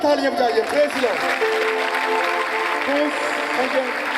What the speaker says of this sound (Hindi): आइए जोरदार तालियां बजाइए